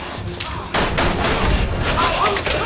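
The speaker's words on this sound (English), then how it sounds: "Nice shooting, Sherry." Gunfire in the video game Resident Evil 6, a loud burst of rapid overlapping shots that kicks in suddenly and continues densely to the end, with game sounds layered underneath.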